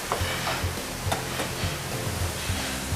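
A mound of meat with red onions sizzles on a hot griddle at the Red Wagon, a steady loud frying hiss with small scraping stirs, no voices.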